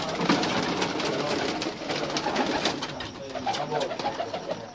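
Pigeons coo steadily in a champion pigeon loft, several birds layering soft, throaty calls close by with faint rustling around them.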